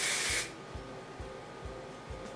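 A short, close burst of Argan Magic High Shine hairspray hisses for about half a second, followed by faint low thumps and quiet handling noise.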